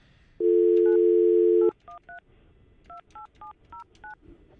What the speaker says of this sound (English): I'm going to call Michelle